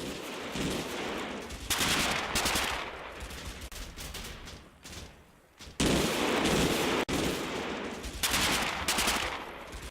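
Sustained machine gun and rifle fire in the World War II game Combat Mission Final Blitzkrieg, with dense overlapping bursts and sharp cracks that surge and fade, loud and continuous throughout with no talking.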